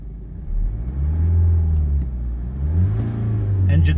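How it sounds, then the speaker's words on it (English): A BMW 3 Series car engine runs smoothly close by, rising and falling through a couple of revs with a deep, even rumble, with no talk. "Engine sounds very smooth and very healthy."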